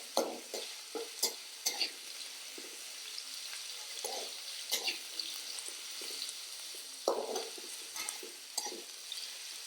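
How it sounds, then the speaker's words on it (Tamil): Pirandai (adamant creeper) sautés in oil in a pan, a soft sizzle running under intermittent scraping and stirring strokes of a spoon, close by and fairly quiet, with no voices. "நல்லா வதக்கணும் எண்ணெயில்"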